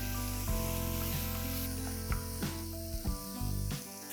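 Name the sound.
onions frying in a pan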